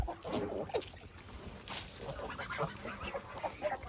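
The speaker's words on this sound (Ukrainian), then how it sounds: "Ось такі вже гуси в мене." A flock of farmyard geese, including Kholmogory geese, honks and cackles in a busy jumble, fairly close, over steady outdoor background noise.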